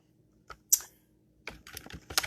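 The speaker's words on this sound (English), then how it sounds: "is I'm typing some information in so you guys will kind of have some key points" Someone types on a computer keyboard nearby with a few isolated key presses, then a quicker, irregular burst of clicks, all fairly quiet with no talk.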